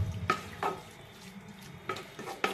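Vegetables for a paneer mixed vegetable curry being stirred in a pan, with four distinct scraping strokes against the metal over a low, steady sizzle.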